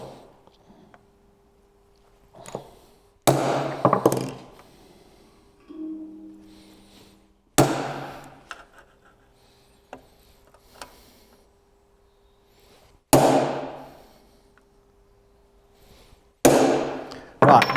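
A Whitney punch strikes an aluminium panel during a Maserati Mistral restoration in five sharp, loud metallic punches spaced a few seconds apart, with faint low sounds in between.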